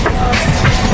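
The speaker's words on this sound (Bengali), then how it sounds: "দিক থেকেও একটা ট্রেন আবার ঢুকছে মেন লাইনে, হয়তো ব্যারাকপুর শিয়ালদা লোকাল।" A Barrackpore–Sealdah local train rolls onto the main line at the busy Sealdah station, a loud, continuous rumble and rattle of railcars passing close by.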